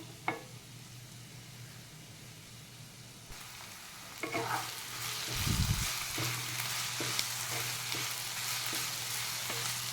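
Bitter gourd (karela) roasting in a pan with jaggery, a quiet sizzle that grows fuller after a few stirs, with faint spatula scrapes and a low background hum.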